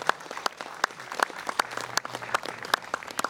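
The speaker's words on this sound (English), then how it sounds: "So a round of applause for all these great dynamic people we have here." Sparse, scattered clapping from a small audience at a Nepal Ireland Day community event, uneven individual claps rather than a full ovation, moderately quiet.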